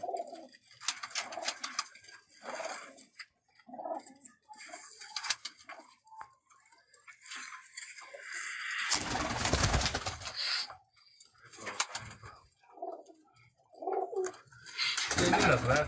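Teddy pigeons coo repeatedly in a home loft holding breeding pairs, eggs and young chicks, with soft overlapping calls near and far and a burst of wing flutter partway through.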